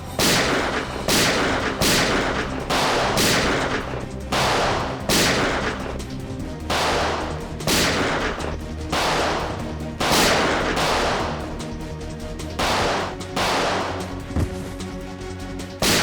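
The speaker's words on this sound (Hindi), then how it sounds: "बाहर गोली चलने की आवाज" Loud gunfire rings out outdoors in repeated heavy bursts, shot after shot in an irregular rhythm with brief gaps between volleys.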